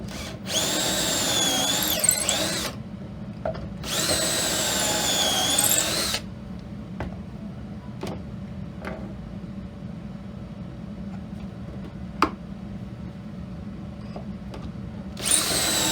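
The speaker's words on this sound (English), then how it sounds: "I've got to use a micro pocket hole jig. So to set this in place, I'm going to put 3 holes in this." Drill bursts boring pocket holes through half-inch-thick wood with a micro pocket hole jig, two long whirring runs a few seconds each, separated by pauses, then quieter handling clicks and taps, close by.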